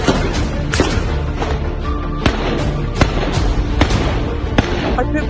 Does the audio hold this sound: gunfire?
yes